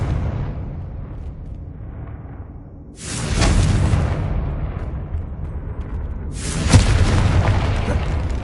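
Two heavy booming blasts from the Confringo fire spell in Hogwarts Legacy, a few seconds apart, each a sudden loud burst that rumbles and fades over a quiet game background.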